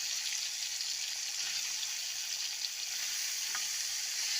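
Boiled young jackfruit hits a hot pan and fries with a steady, fairly soft hiss and sizzle, with faint clicks of stirring throughout.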